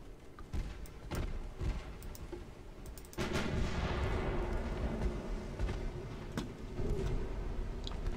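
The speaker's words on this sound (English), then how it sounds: "There's a torpedo hit from our light cruiser." A torpedo from a light cruiser strikes an enemy ship in the naval battle game Ultimate Admiral: Dreadnoughts, a sudden low rumbling impact that swells into a sustained roar amid scattered clicks and booms of ongoing gunfire.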